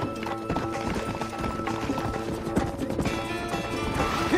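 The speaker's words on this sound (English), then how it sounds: "Get on your horses!" Horses gallop in the Red Dead Redemption video game, with rapid, rhythmic hoofbeats pounding close and loud over a busy game soundtrack, several riders moving together.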